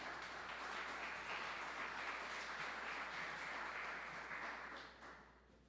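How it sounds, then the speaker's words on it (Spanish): Church congregation applauding together, a steady wash of clapping from many hands heard somewhat distant and soft, fading out at the end. "Démosle un aplauso al Señor por la vida de todos."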